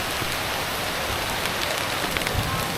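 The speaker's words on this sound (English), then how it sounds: "If it weren't for this rain," Steady heavy rain pours down during Saigon's rainy season, a dense continuous patter on surfaces all around, close and loud with no voices.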